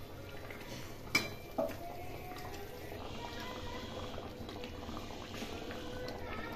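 A potato and paneer curry simmers gently on a low flame with a soft, steady bubbling, plus two brief clinks near the start.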